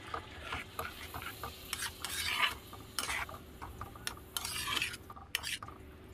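A spoon works through masoor lentils and spinach with salt and turmeric in a pot, making soft irregular scraping and rubbing strokes with light clinks of metal, close and fairly quiet.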